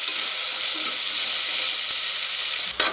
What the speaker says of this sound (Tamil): தக்காளி கொஞ்சம் வதங்குற அளவுக்கு வதக்கிக்கோங்க